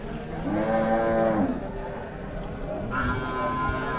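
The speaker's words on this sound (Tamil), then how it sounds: "நல்லா பெரிய மாடு பாருங்கள் ஸோ ஒரு ஜோடி இருக்குது" Cattle at the open-air Vaniyambadi cattle market let out two long, loud, close moos, the first lasting over a second and the second starting near the end, over steady market background noise.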